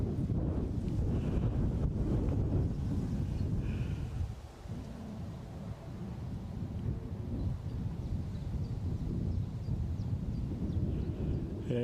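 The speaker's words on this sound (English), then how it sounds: "Yeah, it's definitely blowy here, Rab." Strong wind gusting at Edinburgh airport, buffeting the microphone with a steady low roar that dips briefly midway and then builds again, with no speech.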